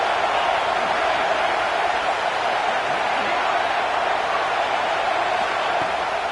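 A football stadium crowd roars steadily throughout, a loud, continuous wash of cheering and noise with no distinct breaks.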